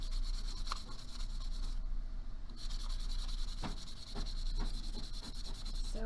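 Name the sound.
sanding a corner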